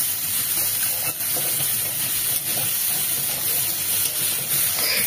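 Shrimp and pointed gourd for a chingri potol chorchori fry in a pan with a steady, close sizzle and hiss that runs continuously under faint background sounds.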